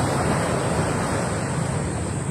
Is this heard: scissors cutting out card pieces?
no